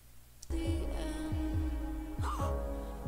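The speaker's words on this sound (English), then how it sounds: "I don't like the heartbeat noise." Heartbeat sound effect from an animated Owl House trailer: several deep, regularly spaced thumps pulse beneath a sustained musical drone, loud and close throughout.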